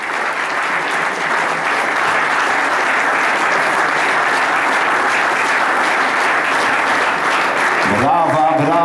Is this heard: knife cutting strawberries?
no